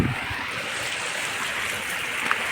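Water from a motor pump rushes into a farm field in a village, a steady broadband splashing flow close by, continuous and fairly loud with no voices over it.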